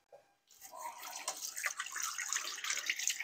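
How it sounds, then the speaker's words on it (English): Hands rinsed under a running kitchen tap, a steady splashing stream that starts after a brief quiet and continues close and fairly soft throughout. "Just get my hands a rinse."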